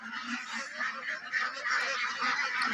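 A flock of ducks and chickens let out in the morning, honking and quacking continuously at close range in overlapping, busy calls with no talk.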